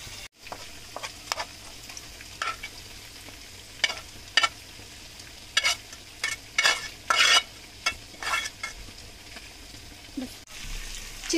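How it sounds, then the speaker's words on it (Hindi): Chicken frying in a pan for chicken korma, with a low steady sizzle broken by repeated sharp scraping and stirring strokes, irregularly spaced, some louder bursts clustered in the middle, close and without talk. "चिकन देखिए काफी अच्छे से हमारा भुन चुका है"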